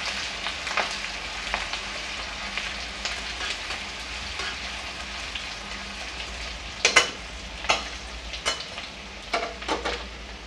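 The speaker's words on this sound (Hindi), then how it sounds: "तो देखिए हमारा प्याज गोल्डन ब्राउन हो गया है।" Onions fry golden brown in a pan for a potato and radish sabzi, giving a steady close sizzle with sharper crackles and stirring scrapes that grow more frequent toward the end; no one speaks.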